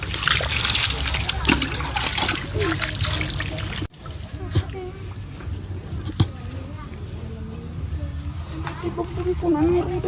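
Water trickles and splashes steadily while a pet named Junjun is rinsed during a bath, and people talk over the pouring throughout, with a brief cut near the middle.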